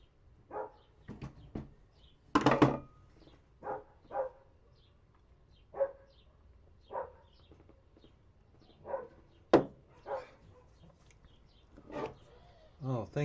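Puppies bark in short, sharp yips spaced irregularly every second or so, close and fairly loud against a quiet room, with one harsher burst of barking near the start.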